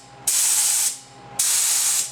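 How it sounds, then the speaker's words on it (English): Spray gun spraying out lacquer thinner while clear coating a pinball playfield: two sustained bursts of bright, loud hiss, each about half a second long, separated by a brief pause. "we're just going to spray out the rest of this lacquer thinner"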